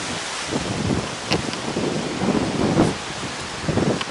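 A strong storm wind roars and gusts continuously through bending trees outdoors, a loud broadband rush with surging peaks and no speech.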